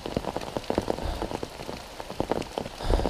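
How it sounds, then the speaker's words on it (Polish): Steady rain falls continuously on surfaces outdoors along a military training ground border, a dense patter of close, distinct drops with no voices. "nieustannie pada."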